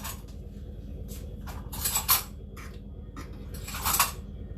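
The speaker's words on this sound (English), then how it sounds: "then I'm going to give that a really good stir." A spoon stirring a pot of quinoa with tomatoes and water, scraping and clinking against the pot in irregular bursts with two louder knocks, close by.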